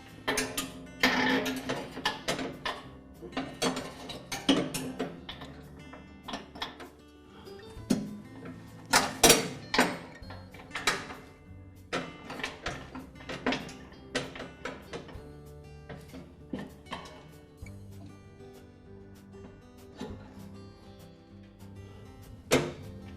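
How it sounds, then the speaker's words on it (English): Metal cable and deck parts on a Troy-Bilt lawn tractor clicking and clunking as the PTO cable is reinstalled under the mower, a run of close, irregular mechanical ticks and knocks with no talk. "Now I'll reinstall the PTO cable."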